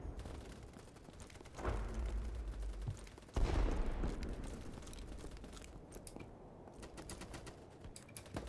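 Gunfire in the online shooter BattleBit, two short loud bursts of automatic fire followed by quieter scattered distant shots and clicks, no talking.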